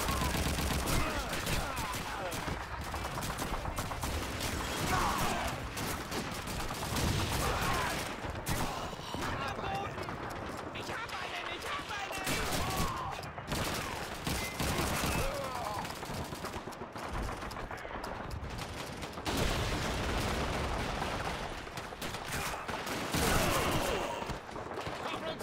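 Sustained battlefield gunfire in Call of Duty 2 with mortar and rocket launcher fire mixed in: dense, continuous bursts of shots and explosions that stay loud for the whole stretch, with some indistinct voices underneath.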